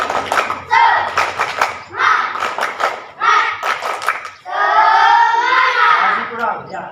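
Children doing the rhythmic tepuk semangat clap in a classroom, with patterned bursts of hand claps mixed with young voices chanting along, ending in a longer stretch of shouting.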